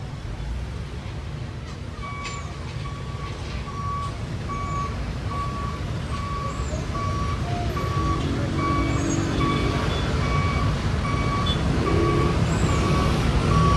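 A heavy fire truck rumbles nearby and grows louder as it arrives at a building fire, with a steady series of electronic reversing beeps sounding throughout.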